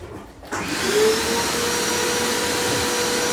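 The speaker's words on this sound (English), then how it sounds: "First of all, I've got a vacuum cleaner." A vacuum cleaner switches on after a brief quiet moment and keeps running with a loud, steady whooshing drone and a faint whine.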